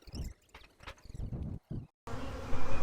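Angry honey bees from a swarmed hive buzz close by in bursts of loud, rough droning that break off and resume, with handling noises in between.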